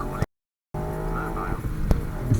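Ford Fiesta ST engine on a full-throttle gear change, heard from inside the car: a loud, steady engine drone that cuts out abruptly for a moment, then returns, with brief talk from the occupants.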